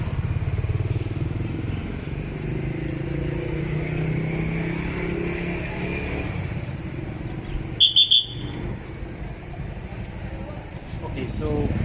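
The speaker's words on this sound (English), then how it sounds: "Listen, there's a couple of motorbikes about to drive by." Motorbike engines drone and rumble steadily nearby with a busy Bangkok street backdrop, a brief clattering burst midway, and people talking under the noise.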